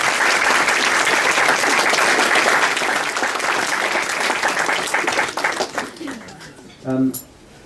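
A dinner crowd at Enfield Golf Club claps loudly and steadily for several seconds before the applause thins out and fades, with a brief voice rising at the end.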